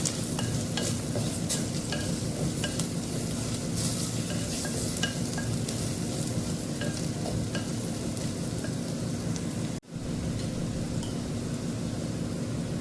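Spices go into a pot of veg biryani and are stirred through, giving a steady, close sizzle with scraping that runs unbroken except for a brief dropout partway through.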